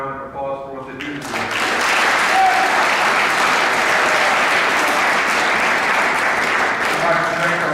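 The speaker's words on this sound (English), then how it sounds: "give them a round of applause for what they do" A school fall sports assembly audience breaks into loud, sustained applause that swells after about a second and holds steady and dense, with a voice audible at the start before the clapping takes over.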